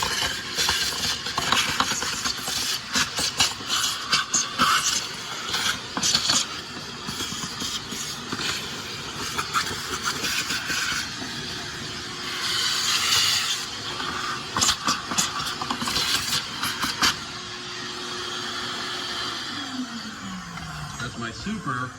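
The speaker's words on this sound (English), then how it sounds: "Got my trusty vacuum." Shop vacuum running while cleaning out the air filter housing of a 2009–2014 Ford F-150, a loud broadband whoosh with sputters and rattles as debris is sucked up, steady throughout with the motor winding down near the end.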